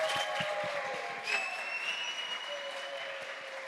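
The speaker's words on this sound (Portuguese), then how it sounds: "Aplauda o Senhor, aleluia." Sustained audience applause fills a church family congress hall, a steady wash of many hands clapping that continues evenly throughout, with faint tonal music lingering beneath.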